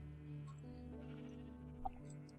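Sheep in a video game give a faint, short bleat against a steady low background hum, quiet and brief, with no talking.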